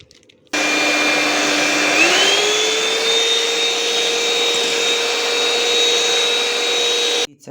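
An electric mixer whisks cake batter for an apple pie, a steady loud whirring motor starting abruptly, rising slightly in pitch as speed increases, then holding constant before cutting off.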